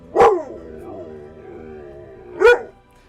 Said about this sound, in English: I'm going to head out and take this dog out of this room.